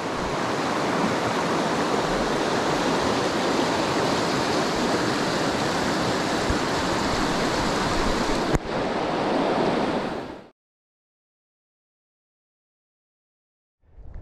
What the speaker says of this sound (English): this is the South Platte River